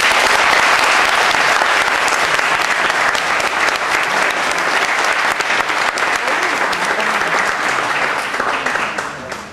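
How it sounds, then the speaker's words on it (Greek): Audience at a children's gymnastics competition in Cyprus applauding young gymnasts, loud dense clapping from a crowd sustained throughout and tapering slightly at the end. "Χειροκροτήστε τα όλα παρακαλώ"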